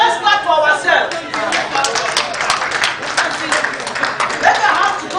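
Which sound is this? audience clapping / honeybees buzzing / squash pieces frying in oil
audience clapping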